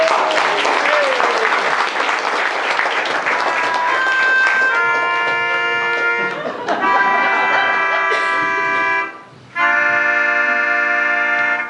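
Audience applause greets a storyteller at a Ramadan talk on true hunger among Muslims in the US, a loud, sustained crowd clapping that carries on for several seconds while musical tones and other noise mix in partway through.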